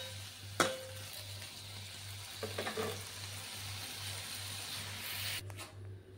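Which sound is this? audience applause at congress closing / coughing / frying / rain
frying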